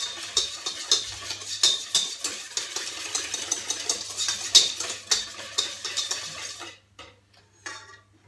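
Utensil stirring clafoutis batter seasoned with salt and pepper in a bowl, steady close scraping and clinking strokes for several seconds, then stopping into a few faint taps.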